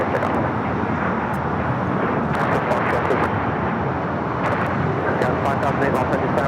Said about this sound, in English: So we have a flex jet now taking off